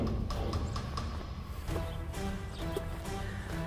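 A bull walks across a pasture, its hooves clip-clopping on the ground in a quick, irregular series of taps, moderately close over a faint outdoor background.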